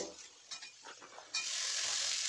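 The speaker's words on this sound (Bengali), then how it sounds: "আলুগুলো ভাজা হয়ে গেলে ওর মধ্যে আমি পেঁয়াজ কুচো দিয়ে ভেজে নেব।" Chopped onions go into a pan of fried potatoes, with soft stirring scrapes followed by a sudden, sustained hiss of frying.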